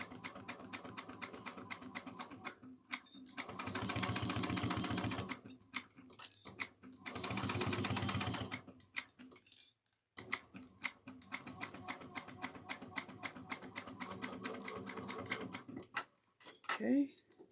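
A sewing machine back-stitches a bag handle in a few short, fast bursts of rapid mechanical clatter separated by pauses, close and clear, with a little quiet movement between runs.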